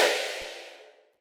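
A laser bass synth with a sub layer and light distortion sounds one bright, close hit that decays smoothly over about a second.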